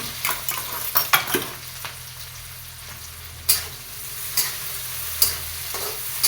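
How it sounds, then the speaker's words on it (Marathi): Onion and green chillies fry in hot oil with mustard seeds and cumin, giving a steady close sizzle broken by sharp scrapes and clinks of a spoon stirring in the pan. "चांगला कांदा लाल होईपर्यंत परतून घेऊया."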